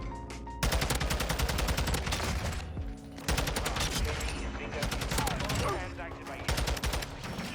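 Rapid assault-rifle gunfire from the TAQ-56 in Modern Warfare 2, loud and dense automatic bursts nearly continuous with brief pauses between strings of shots.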